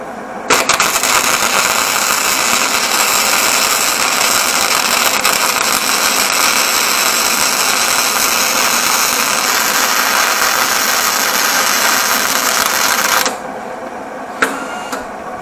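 Flux core arc welding crackles and buzzes continuously in a dense, steady sputter for about twelve seconds before stopping, followed by a couple of faint clicks.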